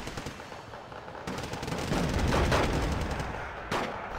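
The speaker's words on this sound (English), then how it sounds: "but they're just using their Uzis" Bursts of Uzi submachine-gun fire in the war strategy game Wargame: Red Dragon crackle in dense, rapid volleys, a steady rattle swelling in the middle with a sharp fresh burst near the end, without speech.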